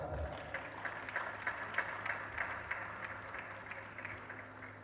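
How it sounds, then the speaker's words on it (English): Audience applause fills a university convocation ceremony, steady and fairly quiet, a continuous wash of hand claps with faint crowd murmur underneath. "She's not here, but please clap for her."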